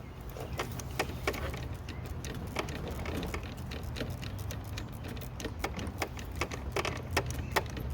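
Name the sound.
ratchet removing a bolt on a 2003 Lincoln Town Car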